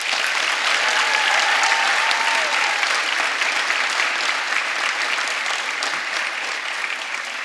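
An awards night audience gives a sustained round of applause for educators, a dense and even wash of many hands clapping that continues for several seconds and eases slightly toward the end.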